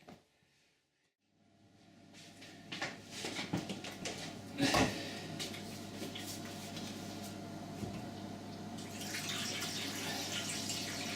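Water pours into the base of a Bosch SM6P1B dishwasher with E24 and E15 fault codes, starting after a near-silent moment with some clunks and handling, then settling into a steady trickling flow, close and moderately quiet.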